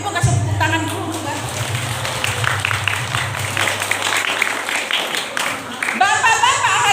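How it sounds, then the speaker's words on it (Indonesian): Audience applause at a school religious gathering, a sustained wash of many hands clapping with voices mixed in, fairly loud and close, swelling again near the end. "Tolong dong ibu-ibu kasih tepuk tangan dulu juga."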